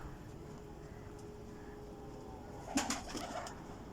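Pigeons coo softly at a breeder's loft, a low murmur under steady background noise, with a brief louder burst of wing flutter or calls near the end.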